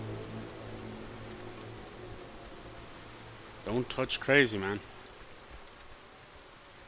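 Steady rain falling in the video game Oxenfree, a soft continuous patter throughout, with a brief spoken line from a voice breaking in near the middle.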